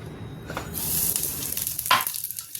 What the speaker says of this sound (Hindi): तेल मेरा धुआंधार गर्म हो गया। इसमें हम ये वाला मसाला डाल देते हैं